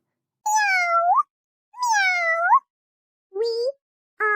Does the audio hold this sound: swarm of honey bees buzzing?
no